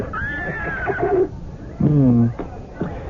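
A horse neighs in two drawn-out whinnies, the first high and wavering, the second lower and stronger, close and loud, with a brief snort after; no words spoken.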